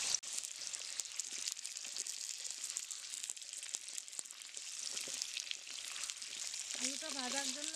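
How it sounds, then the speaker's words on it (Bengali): Potato pieces fry in hot white oil in a wok, a loud continuous sizzle with faint stirring, and a voice joins near the end. "এবার আমি একে একে আলুগুলো দিয়ে দিব।"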